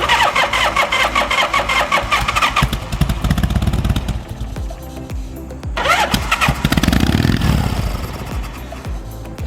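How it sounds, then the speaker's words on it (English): A 1988 Harley-Davidson Springer motorcycle engine cranks over and fires with starting fluid in the carburetor, loud and close, catching and running rough in uneven bursts, dropping briefly, then revving up again. "I cranked on the Springer for a while, and as long as I put starting fluid down the throat of the carburetor, it'll hit."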